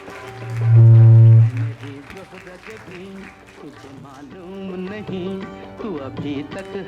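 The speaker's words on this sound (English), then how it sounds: "Round of applause." An audience applauds the bride's parents at a wedding reception, a loud burst of clapping followed by music and voices.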